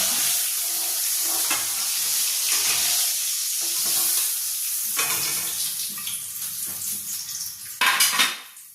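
Fish head shallow-frying in oil in a pan, a continuous bright sizzle close by, with clinking utensil and pan knocks as the piece is lifted out near the end.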